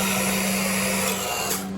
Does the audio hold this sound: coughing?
no